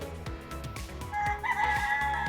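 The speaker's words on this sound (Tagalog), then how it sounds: "Oh, may manok pa." A rooster crows on the outdoor balcony of a modern house in Cainta, Rizal: a loud, drawn-out call that rises in the second half over a busy backdrop of other low, rhythmic sounds.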